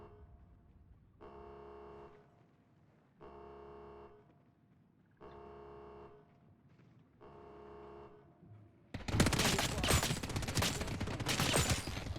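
Gunfire in the video game Ascendant: a dense, loud, continuous burst of shots takes over the last three seconds, after four evenly spaced tonal electronic tones.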